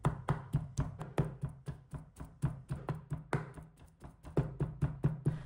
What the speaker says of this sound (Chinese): 然后给它剁成肉末。